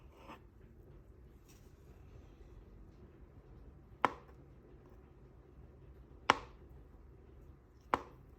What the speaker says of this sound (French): On va couper les œufs en super petites rondelles.